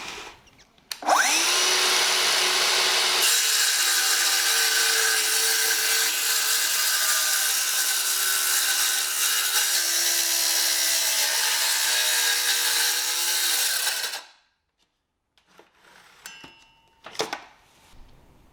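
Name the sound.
cordless circular saw cutting wood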